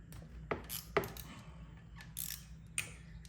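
A ratchet clicks and metal taps sound as small 8mm bolts come off the oil filter cover of a Honda Foreman 500 ATV, faint and close with a few sharp knocks.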